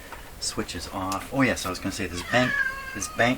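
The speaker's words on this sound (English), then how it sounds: "this is my cat." A pet cat meows a few times close by in a room where a radio is being restored, the calls mixed in with someone talking.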